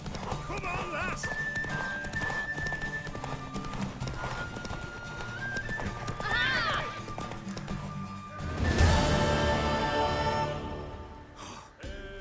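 A horse in the video game The Witcher 3 clip-clops with hooves and gives a sharp neigh, with a crash and heavier hoofbeats later, while game characters talk over the action.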